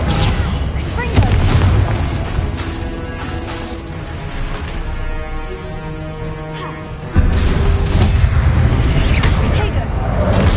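Confringo blasting-curse explosions in the Hogwarts Legacy video game, heavy booms and crashes over a dense, continuous layer of combat noise and music, loud throughout, with a fresh burst near the end.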